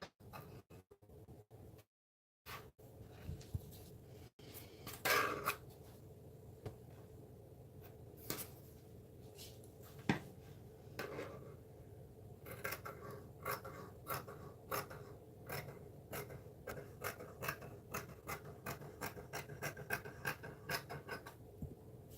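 Quiet, irregular snips and scratchy crunches of scissors cutting through a folded fabric strap for a jumperskirt, with soft handling noises between cuts.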